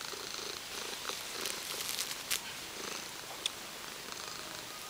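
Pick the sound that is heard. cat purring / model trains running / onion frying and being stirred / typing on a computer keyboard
cat purring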